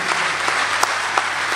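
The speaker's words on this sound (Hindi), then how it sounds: "पुरजोर तालियां, यहां तालियां बजनी चाहिए आपकी।" Audience applause at a mushaira and kavi sammelan poetry recital in Ichalkaranji, a steady wash of hand claps with a few sharper claps standing out, heard alone without speech.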